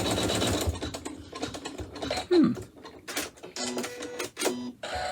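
An embroidery machine stitches a pouch design in short bursts of rapid mechanical chatter, broken by brief pauses and small clicks and whirs as it moves between stitches, close and clear.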